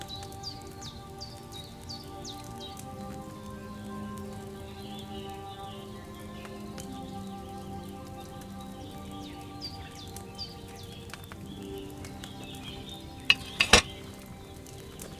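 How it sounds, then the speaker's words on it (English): A cauldron of wine for a potion bubbles and boils over a flame in Kingdom Come: Deliverance 2. A soft, steady simmer runs under faint chirping birds and ambient game sound, and a brief clattering knock comes near the end. "Hear that bubbling? It's boiling."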